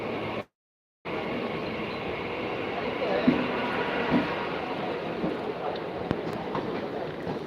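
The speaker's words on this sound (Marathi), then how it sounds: "गाड्या खूप धीम्या गतीने चालतात आहेत" A Mumbai local train moves slowly along rain-flooded tracks, making a continuous dense rumble and rattle of the carriages that cuts out briefly near the start and then carries on steadily.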